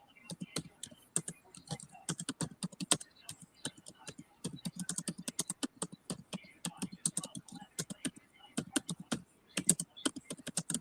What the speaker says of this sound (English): Sorry, I was typing in the chat.